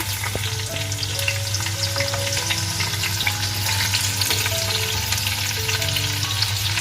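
Green chillies sizzle and crackle steadily in hot oil, a continuous close frying hiss with a faint low hum underneath.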